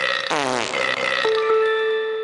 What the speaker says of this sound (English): Fart sound effect.